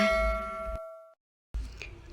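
A bright notification bell chimes once, ringing clearly and decaying into a short silence before other sound resumes, with no talking.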